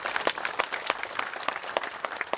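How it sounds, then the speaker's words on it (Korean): An audience applauds steadily after a lecture on agricultural technology. The clapping is continuous and moderately loud, with no talking over it. "김동훈 사장님께 다시 한번 박수 부탁드리겠습니다"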